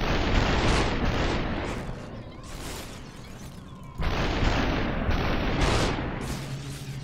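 Loud, dense bursts of gunfire from the video game SUPERHOT, with rapid repeated blasts that sustain a continuous roar and a short dip in the middle before resuming at full force.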